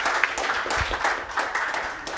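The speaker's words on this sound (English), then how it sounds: "another round of applause for our great speakers tonight, Coral and Fred." Audience applause after an evening talk and Q&A session on Venezuela, moderate clapping at mid distance, uneven and a little sparse, lasting a couple of seconds.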